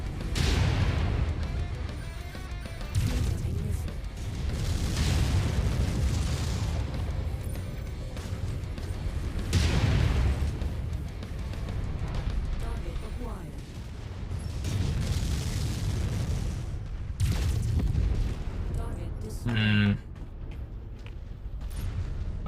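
Missile explosions from MechWarrior 5: Mercenaries, a run of heavy booms and rumbling blasts recurring every few seconds across the stretch, dense and loud against continuous battle noise with a short alarm-like tone near the end.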